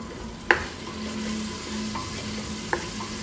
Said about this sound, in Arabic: وغادي نخلي هاد الدجاج يتقلى لي شويه مع العطريه ومع الثومه والبصله.